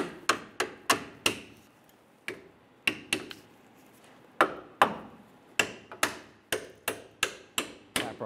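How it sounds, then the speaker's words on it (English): A hammer taps a bolt through the axle mount of a 1997–2006 Jeep Wrangler while a leveling kit is fitted: about seventeen crisp metallic knocks, close and irregular, sometimes in quick pairs, with short quiet gaps between bursts. "Tap our bolt through, let's put our nut on."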